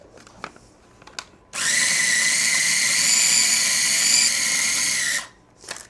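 A small food processor whirs at high speed for about four seconds, blending butter, orange zest and sugar. A few light clicks and knocks come before it, then the motor winds down and stops.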